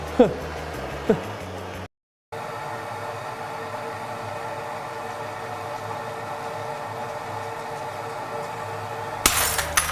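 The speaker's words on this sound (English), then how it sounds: "If you heat the glass unevenly, the glass just breaks." A household mirror cracks while being heated, giving two sharp snapping breaks close by over a steady torch-like hiss that keeps going after a brief gap, with a few crackles near the end.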